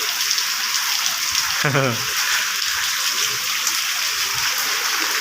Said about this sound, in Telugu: ఇక్కడ నుంచి కనిపిస్తుంది వర్షము ఎలా పడుతుందో